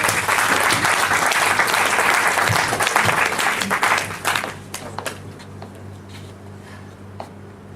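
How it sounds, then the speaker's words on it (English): Warm audience applause for a comedy sketch performer at a nativity play rehearsal, full and steady for about four seconds, then thinning out to scattered claps and quiet. "Nice round of applause"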